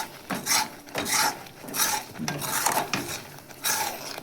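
A spoon stirs a thick milk and nut sandesh mixture around a pan without stopping, giving repeated scraping strokes roughly every half second, close and fairly loud with no talk.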